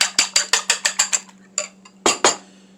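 A fork or whisk beating eggs for French toast in a bowl, striking rapid rhythmic clinks about eight in a row, pausing, then a few more strokes, close and crisp with no voice.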